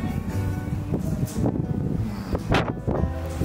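Strong wind gusting outdoors on a snowy spring day in Russia, loud buffeting rushes and surges against the microphone with a few sharp gust peaks, no speech.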